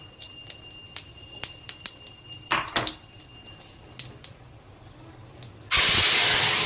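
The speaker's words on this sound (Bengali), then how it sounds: "এবার দিয়ে দেবো টমেটো এবং পেঁয়াজ রসুন বাটা।" Tomato and onion-garlic paste dropped into hot oil with whole cumin in a pan, a few crackles and pops followed by a sudden loud, steady sizzle that fills the end.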